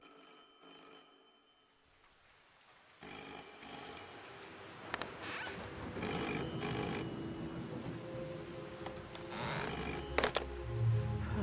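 Telephone in the video game Twisted Tower ringing in repeated bursts of bright electronic bell tones, with a quiet gap first and then rings continuing over a rumbling game soundtrack.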